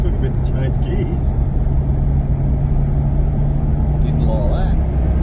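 Holden VL Turbo running on the road with a steady droning engine note and constant road rumble, close and loud, a brief gear change near the start.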